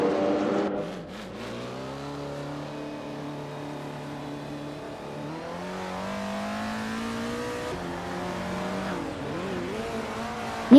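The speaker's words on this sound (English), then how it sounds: "Mirasol is driving a 1938 Auto Union Type D, a car known for its groundbreaking engineering and performance" A 1938 Auto Union Type D race car in an AI racing video game, its engine droning with rising and falling harmonic pitch as it accelerates and shifts, steady and fairly close, with a brief squeal near the end.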